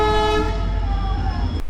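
A train sounds its horn in a long, sustained blast while approaching a bridge near a road crossing where vehicles are queued, with steady low traffic rumble underneath; the horn cuts off abruptly near the end.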